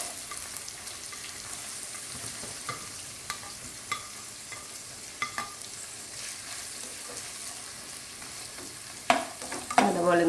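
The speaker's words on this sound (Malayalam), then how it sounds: "അതുപോലെ ഒന്ന് വഴറ്റി കൊടുക്കാം." Chopped onions and broken wheat stirred in a pan for upuma give a steady soft sizzle with intermittent scraping taps of the spoon, louder clatter near the end.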